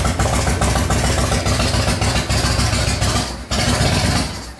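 A cold 1997 Harley-Davidson Fat Boy in need of carburetor work idles loudly and close by, a continuous rumbling engine note that dips briefly once before carrying on.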